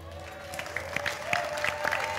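A church congregation claps, scattered sharp hand claps over a steady hum, mid-distance and moderately loud without a single clear rhythm.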